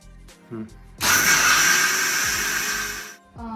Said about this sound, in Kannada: ಇವಾಗ ಆಲ್ಮೋಸ್ಟ್ ಒಂದು ಸ್ವಲ್ಪ ಪೇಸ್ಟ್ ಆಗುತ್ತೆ ಅಷ್ಟು ನಾನು ಗ್ರೈಂಡ್ ಮಾಡ್ಕೊಂಡಿದ್ದೀನಿ